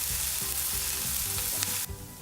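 Onions with turmeric sautéing in an oil-filled pan, a steady close sizzle with stirring scrapes throughout, no voices.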